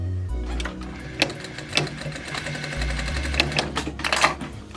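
A sewing machine stitches a zip into a cushion cover, running in steady continuous bursts with a few sharp clicks and short pauses, close and clear with no talking.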